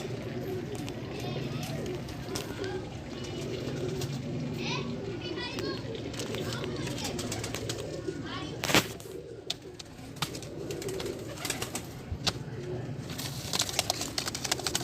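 Soft, repeated cooing of pigeons mixed with fluttering and scattered clatter, under a busy background of distant voices and children at a Sunday bird market in Multan.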